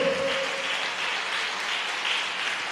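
Inside a church, a congregation applauds in a continuous broad wash of hand claps, steady and fairly loud, with a brief held tone at the start and almost no talk.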